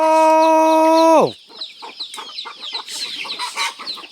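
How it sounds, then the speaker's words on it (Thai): A long, sustained chicken call breaks off after about a second, followed by scattered soft clucks and rustles from a protective mother hen sheltering her chicks, close and fairly loud in a Mlabri forest village. "ไก่แม่ตัวนี้อันตรายเด้อ"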